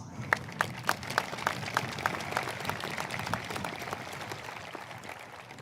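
Audience applause at a high school graduation ceremony, a thin, scattered clapping with distinct individual claps standing out, moderately distant and fading gradually.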